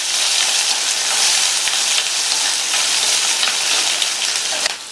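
Onion pieces and two whole dried red chillies sauté in a hot pan for chow chow rice, giving a steady, dense sizzle with no one speaking.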